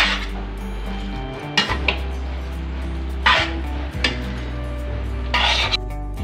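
Vegetable spaghetti being stirred and tossed in a pan, with steady utensil scraping and clinks of metal against the pan, plus a few louder bursts of clatter over a constant low background hum.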